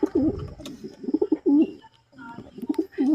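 Racing pigeons in a loft coo close by in repeated throaty, rolling phrases, with a few soft chirps and brief pauses between calls.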